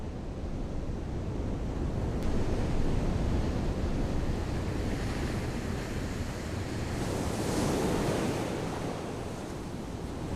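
Ocean waves break along the shore of Réunion island as a continuous roar of surf with wind noise, swelling loudly around the seventh and eighth seconds. No voices are heard.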